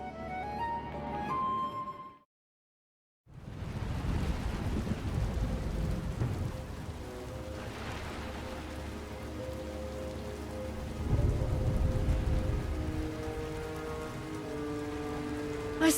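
Steady rain with rumbling thunder in a stormy scene from the Star Wars: The Old Republic game, Knights of the Eternal Throne, broken by a second of silence near the start, then continuous dense downpour with deep rolling swells.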